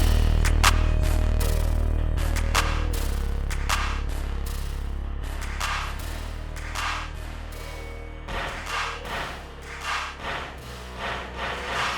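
A drill beat played through a hallway-like intro reverb, with booming sustained bass and washed, echoing percussive hits that grow busier and pulse toward the end, no voices.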